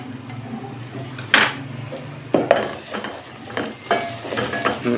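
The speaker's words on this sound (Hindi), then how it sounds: "मसालों की बुनाई हो चुकी है" Spices roasting in a pan for a bottle gourd curry, with a steady sizzle under sharp scraping and stirring strokes and occasional metallic clinks of the spoon against the pan, close up.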